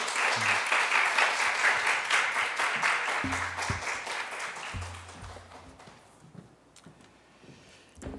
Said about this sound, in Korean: 우리 큰 박수로 우리 목사님 모시도록 하겠습니다.